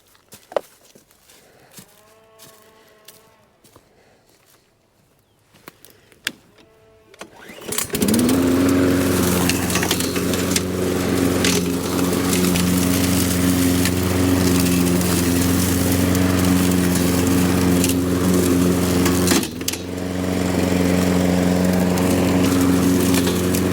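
A lawn mower starts after a quiet stretch during a spring leaf clean-up and runs close and loud with a steady droning hum, briefly dipping once before carrying on.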